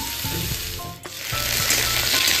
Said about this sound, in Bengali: সুন্দর করে একটু নাড়াচাড়া করে ভেজে নেব।